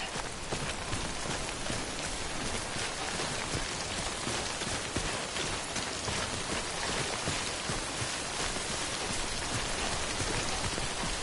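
Steady, dense timefall rain pours down without a break in a rainy outdoor scene from a PS4 video game, with a constant hiss and patter of drops and no voices.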